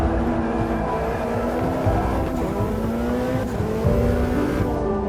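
A Mitsubishi rally car engine from a racing simulator drones steadily and loudly throughout, with a sustained revving tone that shifts pitch slightly, up close and with no voices.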